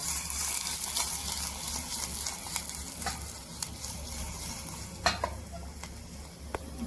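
Onion frying in hot oil gives a steady, close sizzling hiss, broken by scattered sharp clicks and scrapes of a spoon against the pan, with a low hum running underneath; no one speaks.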